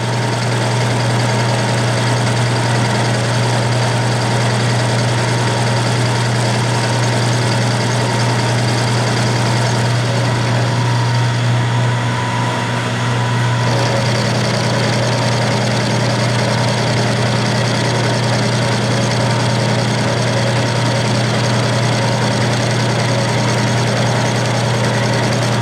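Metal lathe taking a final cut, a steady continuous motor hum with constant whirring and faint cutting noise, unchanging and close for the whole stretch.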